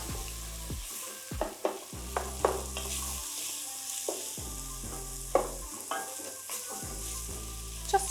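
Vegetables for a vegan lentil soup stirred in a pot over high heat, with a steady loud sizzle broken by repeated scraping strokes of the spoon, close up and with no talking.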